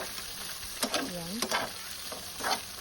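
Sisig is stirred in a frying pan, with a spoon scraping and clattering through the meat over a steady sizzle. There are several quick scrapes and taps up close.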